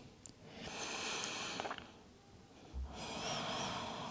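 Slow, deep breaths drawn in and let out during a bedtime yoga stretch: two long airy exhales roughly a second apart, close and soft, with no talking over them.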